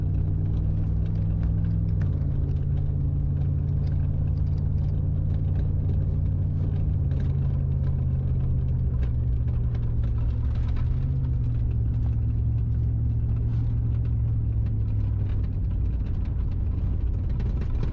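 Steady engine drone and low road rumble from a Chevrolet Silverado pickup on 35-inch tires cruising at highway speed, a continuous low hum that shifts slightly in pitch, with no talking.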